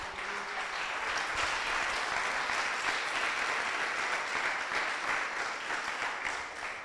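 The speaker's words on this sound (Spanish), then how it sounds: "Denle ese aplauso al Señor." A church congregation applauds during a sermon, sustained, even clapping from many hands filling the room for several seconds, with no talking over it.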